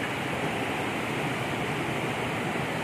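River water diverted into a fish pond in front of a village house gives a steady, close rush of flowing water, continuous and even throughout with no voices.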